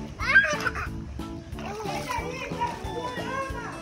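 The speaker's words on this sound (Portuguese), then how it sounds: "Ai, ela mergulha. Tá nadando, minha filha." Splashes and sloshing water come from a child diving into a swimming pool, close and mixed under the high voices of children and adults talking.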